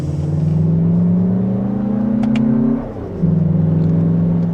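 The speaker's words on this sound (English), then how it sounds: "And still in sport mode, second gear, here we go." A 2026 Lexus RX500h F Sport Performance hybrid SUV accelerates in sport mode from second gear, its engine note climbing steadily inside the cabin, then dipping briefly at a shift before pulling on.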